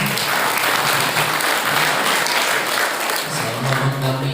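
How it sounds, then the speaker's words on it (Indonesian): Audience applause at an Islamic boarding school event honoring the founders of Pondok Modern Darussalam Al-Hunafa, a dense burst of clapping that stays loud and steady, with a low voice or rumble coming in near the end. "tepuk tangan buat beliau."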